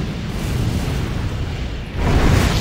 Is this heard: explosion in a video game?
yes